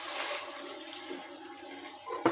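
Three glasses of water poured into rice frying in a pot, a broad rushing splash and hiss that holds steady, then a brief sharper clatter near the end, with no voices.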